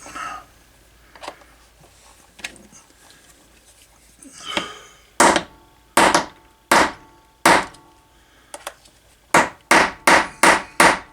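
Cross peen hammer doming the end of a size 14 rivet during holster repair, a few light taps followed by a series of sharp, close metallic blows in an uneven rhythm that quickens toward the end.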